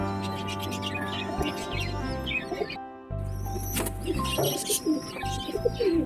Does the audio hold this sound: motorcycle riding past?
no